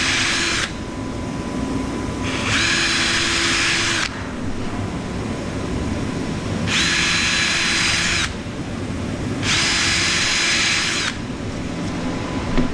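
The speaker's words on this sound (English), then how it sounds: "Take our drill now." A power drill bores into a wooden tote storage rack in bursts: four separate runs of the whining motor, each lasting one to two seconds, sounding close and loud over a steady background hum, with short pauses between them.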